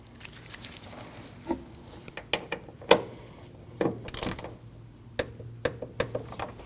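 Ratcheting clicks from a wrench tightening an 8mm bolt below the top radiator hose on a 2012-2021 Nissan NV2500 5.6L V8 fan shroud, irregular bursts of close metallic ticks.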